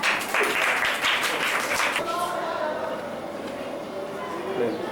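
Applause at a school gathering in the opening two seconds, a dense burst of clapping that quickly fades, leaving murmuring voices and room noise.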